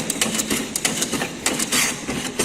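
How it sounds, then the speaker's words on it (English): Hand plane shaving wood in an engineering workshop lab, a rapid series of sharp scraping strokes and knocks, close and fairly loud, with no talk. "This is called planing."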